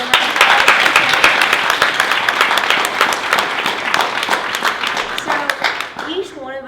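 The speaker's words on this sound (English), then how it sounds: "Can we give a round of applause?" Audience applause at a residential program gathering, a sustained round of loud, close clapping that tapers off toward the end as a voice begins.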